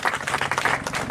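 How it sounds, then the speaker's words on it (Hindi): An audience at a talent search competition event claps enthusiastically, a steady burst of close, dense applause with no voices heard. "इनको भी हमारे सेक्रेटरी रुस्तम प्रेम मधुबाला सिन्हा जी जोरदार तालियां।"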